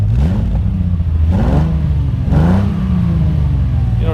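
A 1982 Ferrari 400i V12 with CIS injection and ANSA muffler tips, running slightly rich, revs in several rising and falling pulls over a loud, close, steady idle rumble.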